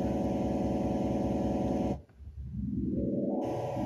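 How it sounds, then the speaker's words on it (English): Multichannel test tones play back from disk in Nuendo as a dense, steady harmonic drone that drops out abruptly, then builds back up with rising tones until the full sound returns. "That's all the tones kicking in as it reads off of disk."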